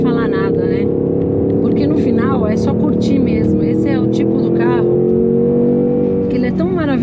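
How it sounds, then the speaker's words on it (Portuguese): A Ford Mustang Mach 1 on a race track gives a loud, continuous engine and exhaust roar that holds steady throughout, with voices faintly over it. "você fica curtindo mesmo o ronco. E esse escapamento e esse barulho dentro da cabine é maravilhoso"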